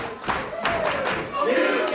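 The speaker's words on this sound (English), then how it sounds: "Listen to the crowd" A wrestling crowd at an ICW heavyweight championship match cheers and roars after a kick-out from a 450 splash. The sound is a loud, surging wall of voices with rhythmic chant-like bursts, and a commentator's voice is partly mixed in.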